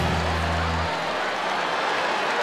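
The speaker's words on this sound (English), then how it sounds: "Big clap for Michael Finnegan." Audience clapping at a live nursery rhyme concert, a dense, steady wash of applause from a crowd, with a short musical tone fading out at the very start.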